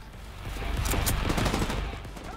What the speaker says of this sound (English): I can't aim. I'm just hip firing.